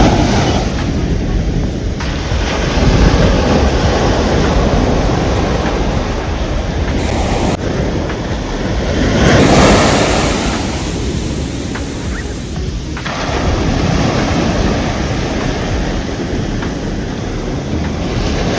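Ocean waves wash onto a clean Miami beach early in the morning, a steady loud surf roar that swells and recedes with wind buffeting the microphone.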